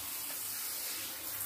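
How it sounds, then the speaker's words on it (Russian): Tap water runs steadily into a bath as shampoo is rinsed off a dog, a continuous broadband hiss and splash held at an even level without a break. "Смываем шампуник."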